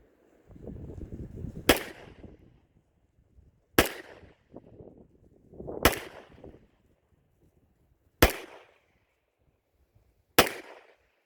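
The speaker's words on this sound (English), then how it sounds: "Let me go stand up the target and let's try a couple of shots." Five pistol shots from a Wilson Combat handgun fired at a target, each a sharp loud crack spaced about two seconds apart, with handling and rustling noise in between.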